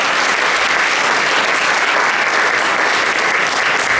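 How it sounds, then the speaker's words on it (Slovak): Dense, steady applause from an audience for a young girl singer who performs with a brass band at a summer holiday event, loud and continuous without a break. "Potlesk pre túto šikovnú speváčku."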